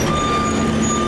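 Street construction on a city road, with a truck's loud, steady reversing beep repeating over a dense wash of engine and site noise.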